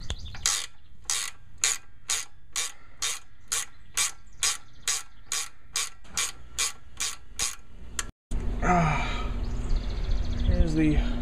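A hand ratchet loosens the 17mm nuts on an AE86 Corolla panhard (lateral) bar, clicking in a steady, evenly spaced run of about sixteen close strokes before a louder, rougher metallic clatter.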